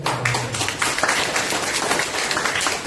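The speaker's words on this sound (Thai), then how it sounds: "ปรบมือให้" Brief burst of dense audience applause, many hands clapping at once in a steady, fairly loud wash for a few seconds.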